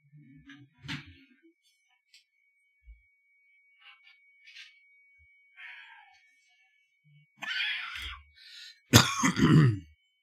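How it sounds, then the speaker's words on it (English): A person sick with Covid clears their throat and coughs indoors, a few scattered rasping sounds with quiet gaps between them, ending in a louder burst of throat clearing and coughs. "Oh, excuse my coughing."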